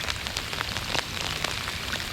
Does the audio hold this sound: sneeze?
no